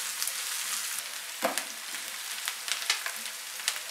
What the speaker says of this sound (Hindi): इन दोनों को हल्का सा फ्राई करेंगे।